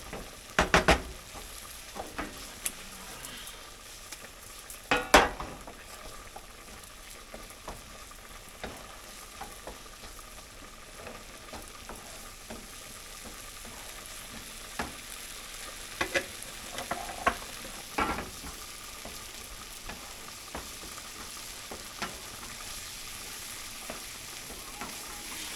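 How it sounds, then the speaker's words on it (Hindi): Masala with kasuri methi fries in a pan for Punjabi-style rajma, a soft continuous sizzle broken by repeated scraping clacks of a spoon stirring, fairly quiet and steady. "तो जब तक ये मसाला भुन रहा है सर"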